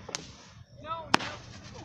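Fireworks set off outdoors at a Fourth of July backyard celebration: two sharp cracks with a brief whistling rise between them, close by, over background voices.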